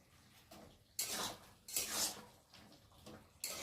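Pumpkin greens curry with prawns is stirred in a pan, several loud scraping strokes of a spatula against metal coming in uneven bursts, close and clear with no talking.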